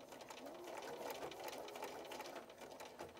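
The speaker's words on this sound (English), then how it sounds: "I will use my line, my 3/8 inch line, to guide my stitching" A sewing machine runs steadily, stitching a quilted fabric bowl cozy along a 3/8 inch guide line, with a continuous close, fast mechanical whir and rapid needle chatter throughout.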